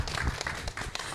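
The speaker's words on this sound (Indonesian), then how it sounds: "tepuk tangan untuk kita semua" Brief burst of scattered hand clapping from people at a neighbourhood community gathering in Kelurahan Menteng Dalam, Jakarta, close and lively for just over a second.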